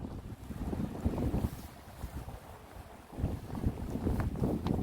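Cold wind gusts roar across the Cheongho-dong breakwater, buffeting the microphone in uneven surges with no voices.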